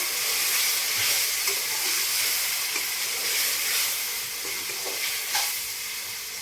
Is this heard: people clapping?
no